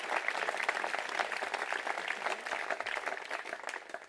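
An audience at a public speech in Tourcoing applauds the speakers with sustained, dense clapping from a sizable crowd, steady throughout with no talking.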